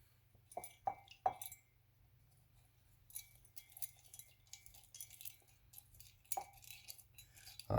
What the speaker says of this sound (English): Put a little bit in there. Let me stir it up.